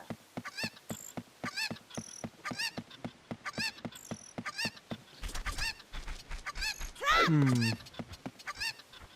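Cartoonish clucking and squawking from chickens in the Zelda Ocarina of Time video game, a quick run of repeated bird calls with a louder, drawn-out squawk near the end and some talk underneath.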